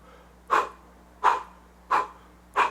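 Four short, sharp exhaled puffs of breath at an even, steady rhythm, like blowing out candles in a five-finger singing breathing exercise, close and clear with no talking.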